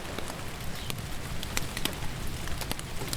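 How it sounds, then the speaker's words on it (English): Steady rain falls in a mountain setting, a continuous dense patter with scattered sharper drop hits throughout, moderately loud and with no voices. "it rains. And rains and rains."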